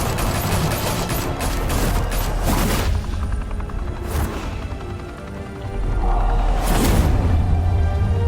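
Gunfire in Batman: The Telltale Series, a loud rattling fusillade of automatic bursts that dips briefly, then surges again with booming impacts.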